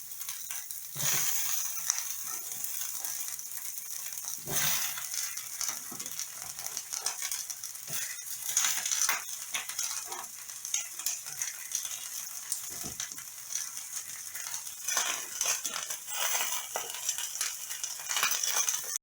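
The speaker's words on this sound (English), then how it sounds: "now we're gonna take these onions and peppers and mix them together" Onions and peppers are stirred together in a preheated pan, giving a steady hiss of frying with scraping and clinking from stirring, close and continuous.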